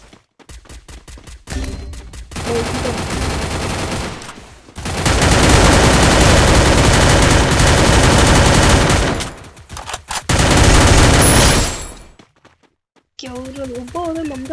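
Rapid automatic gunfire and repeated shots in the Free Fire battle royale game, loud bursts and sustained volleys with short pauses, ending with brief talk.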